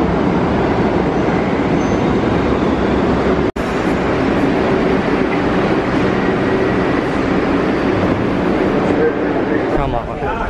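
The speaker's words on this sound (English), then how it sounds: "We're heading to the subway to go to the Grand Central Station" A New York City subway train rumbles steadily through its run, a broad continuous roar of wheels and carriage with a brief sharp clunk partway through, while voices talk faintly underneath.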